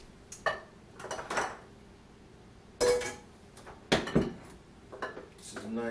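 A measuring cup scoops into a bag of all-purpose flour in a home kitchen, giving several separate scraping and clinking bursts with quiet gaps between them, close and moderately loud.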